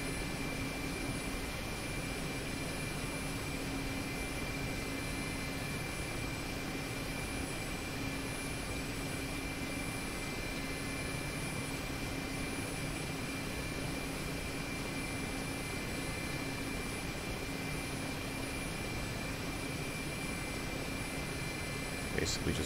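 A Mi-8 helicopter in the DCS flight simulator flies low at around 100 meters: a steady, loud cabin drone of engines and rotor with a constant whine, unbroken throughout.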